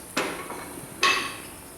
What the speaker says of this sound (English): What we're going to do is lay this rounding hammer on the shoe, and we're going to hit it and draw out a little pallet.